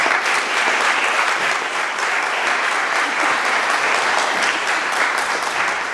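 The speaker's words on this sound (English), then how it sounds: "Let's give these players a nice round of applause." Steady, full applause from an audience honoring the players at a Concord civic event, dense and sustained clapping throughout with no break.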